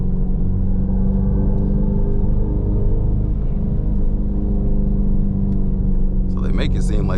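The simulated engine sound of a 2026 Dodge Charger Scatpack EV sedan in track mode gives a loud, steady, deep rumble like an idling V8 inside the cabin, with a short burst of speech near the end.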